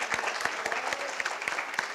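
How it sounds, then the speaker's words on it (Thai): A seated audience gives a short burst of applause for a newly named committee member at the founding announcement of a Thai tilapia association, dense, even hand clapping with no voices over it. "ขอเสียงปรบมือให้ท่านด้วยนะครับ"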